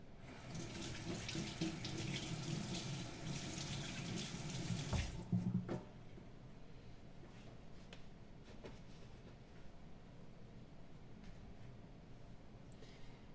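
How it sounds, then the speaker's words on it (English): Fingers are rinsed under a running tap, with water splashing steadily into a sink for about five seconds before the flow stops, leaving a quiet room. "let me rinse my fingers real quick."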